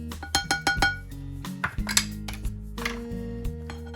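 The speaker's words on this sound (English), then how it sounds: "And I'll go ahead and mix it together. Mix it very well." Dry ingredients for millet puff puff dough being stirred in a bowl, with a rapid burst of clinking utensil-on-bowl taps at the start, then scattered knocks and scraping clinks over a steady background.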